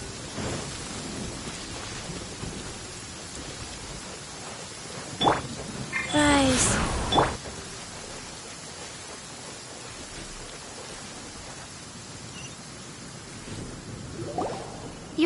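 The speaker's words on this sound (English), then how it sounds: "When stuck on a deserted island, rain is a precious source." Rain and thunder in a video game's deserted-island setting: a steady hiss of rainfall throughout, with a louder rumbling burst midway that carries a brief tonal, voice-like sound, then a faint swell near the end.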